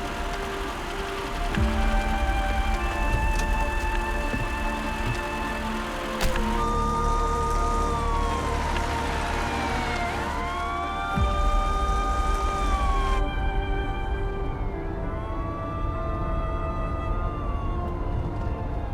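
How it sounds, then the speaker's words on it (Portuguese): An ambulance siren wails and sweeps in pitch, steady and fairly loud, over a constant wash of background noise, with no talking. "Ambulância."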